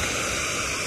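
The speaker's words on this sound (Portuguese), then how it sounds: "Lá tem a cachoeira, né?" Steady, dense rush of a waterfall in Ervália, Minas Gerais, filling the whole moment as an even broadband roar with no pauses or voices.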